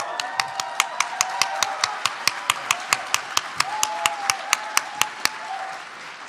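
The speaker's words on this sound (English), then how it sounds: "Give yourselves another round of applause." Sharp, evenly spaced claps keep a steady rhythm for several seconds, like a convention panel audience clapping in time, over faint sustained tones.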